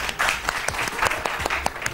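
A studio audience at an Iftar transmission entertainment show claps in a brief, fairly loud burst of applause, with scattered sharp hand claps standing out and no clear talk over it.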